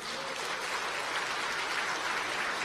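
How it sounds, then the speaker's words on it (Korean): Party delegates clap at a Democratic Party provincial chair election gathering, offering get-well wishes to an elderly delegate; an even, continuous wash of many hands from a large hall, fairly soft and unbroken throughout. "쾌유를 비는 박수를 한번 부탁드립니다."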